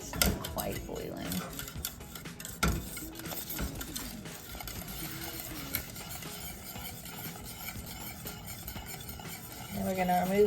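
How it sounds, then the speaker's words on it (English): Scraping, clinking stirring of lemon meringue pie filling in a metal pot on a stove as it nears a boil, steady and close, with faint sizzling and brief murmurs of talk. "stir it constantly until it boils"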